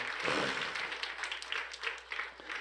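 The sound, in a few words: applause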